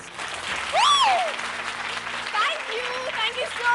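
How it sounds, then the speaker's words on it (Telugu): A studio audience at a television game show applauds in a steady, dense patter lasting a few seconds, with a whistle-like sweep rising over the clapping. "బాగా నచ్చితే అందరు క్లాప్స్."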